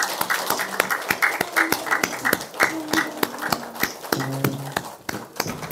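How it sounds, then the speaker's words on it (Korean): Church congregation applauding during a Korean Sunday worship service, a fairly loud burst of mixed clapping with some sharp individual claps standing out, and brief voices underneath. "박수 주세요."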